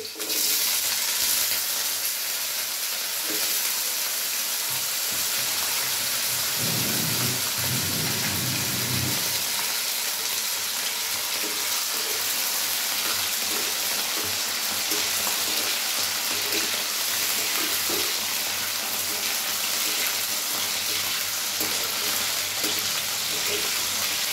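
Potato pieces fry in oil with a steady, loud sizzle throughout, dotted with crackling spatters and a brief louder burst of frying partway through.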